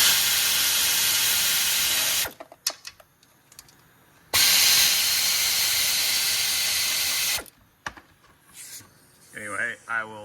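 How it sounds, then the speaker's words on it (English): An air ratchet with a 10 mm socket on a 1/4 inch drive removes perimeter bolts from a Honda 3.5 engine cover, with two long, loud hissing bursts separated by quiet gaps and clicks. "I am going to use my angry little 10 millimeter 1/4 inch drive on this air ratchet and start going to town on these things."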